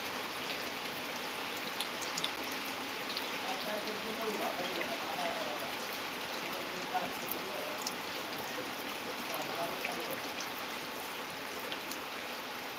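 Heavy monsoon rain pours down in a continuous even patter and hiss, with scattered individual drops standing out against the steady downpour.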